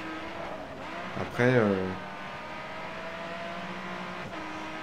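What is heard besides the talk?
race cars accelerating in the video game GRID Autosport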